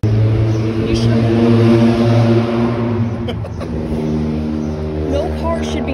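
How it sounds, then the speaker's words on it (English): A loud car engine rumbles and revs nearby with a deep, steady drone that rises and falls, and voices can be heard talking over it. "No car should be that loud."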